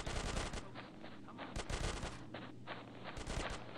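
Rapid automatic gunfire from a GTA San Andreas shootout, sustained bursts close and loud, filling the whole stretch with brief gaps between volleys.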